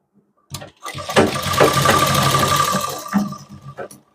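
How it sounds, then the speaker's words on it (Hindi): A sewing machine runs up a pant seam for about two and a half seconds of close, loud mechanical whirring, ending with a brief final burst. No speech is heard. "यहाँ से रखते हैं और सिलाई को लगाते हैं"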